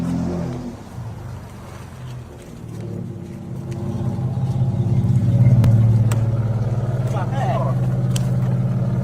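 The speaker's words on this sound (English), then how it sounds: "That's my grandma's car." Grandma's car passes nearby, a low engine rumble that swells and revs up to a peak midway and then holds steady, with brief clicks and a faint voice over it.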